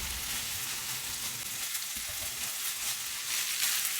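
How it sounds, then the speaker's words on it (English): Pre-cooked basmati rice stir-frying in a pan, a steady bright sizzle that continues unbroken with faint scraping of stirring underneath. "I've got some pre-cooked basmati rice going in there."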